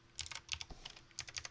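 Quick clicking keystrokes on a computer keyboard, light and close, in two short bursts with a brief pause between them.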